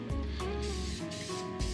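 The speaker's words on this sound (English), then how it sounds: "You're going to grab your nonstick spray here," Nonstick cooking spray hisses from a can in a soft, steady burst as it coats a baking sheet for chocolate chip cookies, fairly quiet and close.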